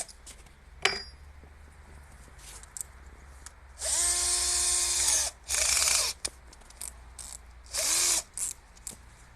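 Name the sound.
drilling an 8 mm hole in old shelf wood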